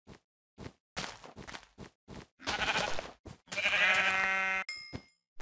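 Sheep bleating in the Minecraft video game, several short game-sound bleats in a row with footstep clicks between them and one longer, louder bleat near the end, with no talk over them.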